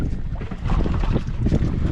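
Strong wind gusts and rushing water at sea aboard a small fishing boat, a steady loud broadband roar buffeting the microphone throughout with no voices.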